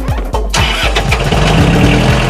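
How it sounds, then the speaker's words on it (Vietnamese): A Kubota 3202DT four-wheel-drive tractor with power steering cranks in a rapid, rhythmic series of starter pulses, then its diesel engine catches and runs steadily and loudly, close by. "tắt máy đi, tắt máy đề lại cho anh em nghe một lần nữa nha."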